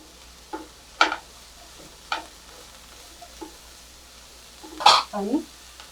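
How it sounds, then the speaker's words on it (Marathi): Vermicelli upma with a spoon of sugar is stirred in a pan: a few sharp scraping strokes and soft sizzle over a low background, with a louder burst of stirring and a brief voice-like sound near the end. "आणि एक चमचा साखर हे सगळं परतून घेऊया"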